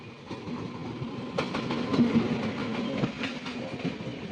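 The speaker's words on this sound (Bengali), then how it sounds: "এটা ট্রেন আসছে কোয়েম্বটুরের দিকে ঢুকবে" A train pulls into a station on the line toward Coimbatore, a steady mid-distance rumble with rhythmic clicking wheel and rail knocks building slightly, and no talk over it.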